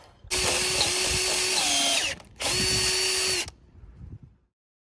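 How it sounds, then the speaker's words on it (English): A power drill bores a hole on a boat project in two loud whining bursts, each lasting over a second with a short pause between, the motor pitch dipping under load before stopping. "So if I can just get that hole drilled right in the middle there"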